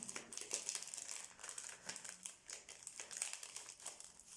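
Paper flower cutouts being handled and unwrapped, giving soft close crinkling and rustling with light irregular crackles, quiet and alone.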